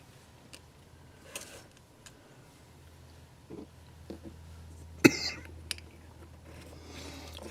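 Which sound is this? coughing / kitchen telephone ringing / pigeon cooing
coughing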